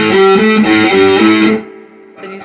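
Heavily distorted electric guitar plays a chugging riff, hitting the open string between fretted notes, loud and up close for about a second and a half before ringing down and picking back up.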